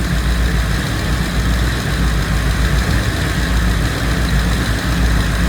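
A 6.2-litre LS V8 idles steadily on a run test stand, a loud, even low rumble with constant mechanical vibration and no change in revs throughout.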